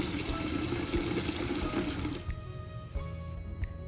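Water pours steadily from a tap into a clay pot, a loud rushing flow that cuts off about halfway through, leaving quieter clinks and room sound.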